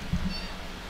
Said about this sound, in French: Il miaule.